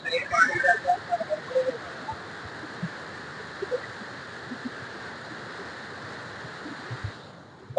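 Heavy water flows through the Harike headworks as a constant rushing wash, moderately loud and steady, with a voice in the opening seconds and a few faint sounds on top.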